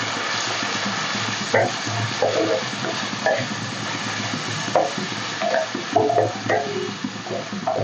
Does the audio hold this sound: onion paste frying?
yes